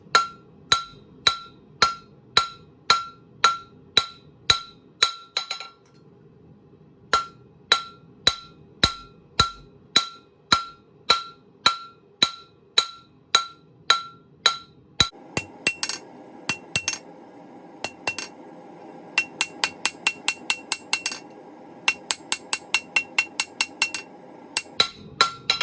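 A blacksmith strikes hot metal on an anvil in a steady series of sharp, ringing hammer blows, pausing briefly twice and then resuming in quicker bursts over a low background hum.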